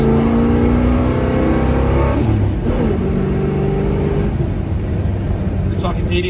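1966 Pontiac GTO engine accelerating hard from inside the car, a loud sustained roar with climbing tones that dip at a shift and climb again, someone talking over it.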